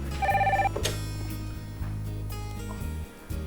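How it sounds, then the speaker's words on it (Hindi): An indoor telephone rings with a short burst of rapid electronic trills, then falls silent, leaving a steady low hum of background noise in a home setting. "देखना किसका फोन है"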